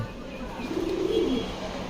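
Khoyra-gola chuithal pigeons give one soft, rolling coo at a moderate distance against faint background noise.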